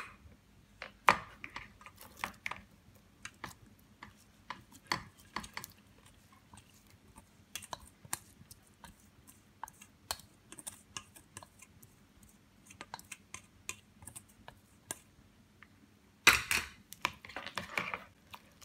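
Chunks of tuna folded into a savoury cake batter with upward strokes, heard as soft sticky squelches and irregular utensil clicks against a bowl, close and quiet, with a louder clatter near the end.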